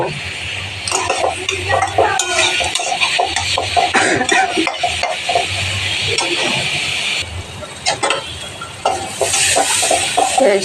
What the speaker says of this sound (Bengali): নুন হলুদ আর লঙ্কাটা দিয়ে দিলাম দিয়ে ভালোভাবে মিশিয়ে দিই